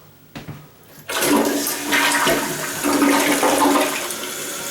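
A newly installed low-flow toilet flushes loudly and close by, a sudden rushing surge of water after a brief quiet click, continuing as a steady gurgling drain.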